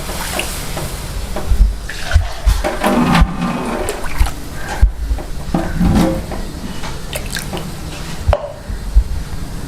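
Water is poured into a pan in repeated cupfuls while making kesari, giving splashy gushes and sizzling surges that rise and fall several times, fairly loud and close.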